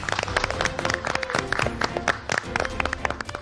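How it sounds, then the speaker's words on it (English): MasterChef US contestants in a studio kitchen clap for themselves, a loud, dense round of applause with cheers and voices mixed in throughout. "Give yourselves a round of applause."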